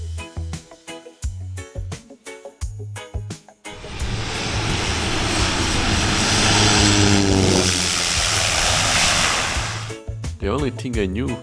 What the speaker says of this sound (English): this beach, where planes land very low and people stand behind big jets when they lift off